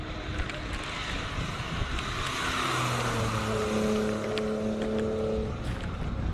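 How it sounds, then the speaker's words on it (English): An E90 BMW races up a mountain hill-climb course at a speed classic in Cape Town, its engine note rising steadily through the gears at a moderate distance, with wind noise buffeting the microphone throughout. "Up the mountain, E90 BMW"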